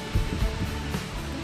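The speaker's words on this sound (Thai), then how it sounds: "นี่คือเสียงลมสภาพอากาศของเช้านี้นะคะ" Strong morning wind blows outdoors, buffeting the microphone with low, rumbling gusts and a steady hiss, with no voices.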